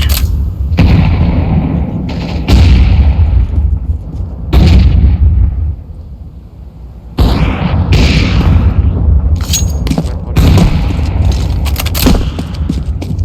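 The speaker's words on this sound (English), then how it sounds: "Throwing grenade. Grenade. Deploying flashbang. Grenade out." Grenades and flashbangs going off in a Counter-Strike match, several heavy booming blasts in bursts with rumbling tails and quieter gaps between, loud and close.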